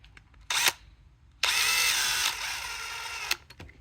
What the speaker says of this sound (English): Not over tightening those screws because we are screwing on plastic as usual.